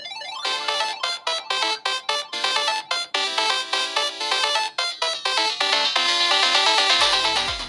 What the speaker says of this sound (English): It even has retro 8-bit ringtones that sounds darn cool.